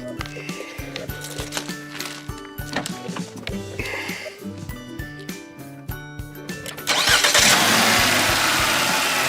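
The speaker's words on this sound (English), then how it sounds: "Turn the car on." A car engine cranks with a rhythmic starter whir for several seconds, then catches and settles into a steady, loud running roar, close by, with no talk.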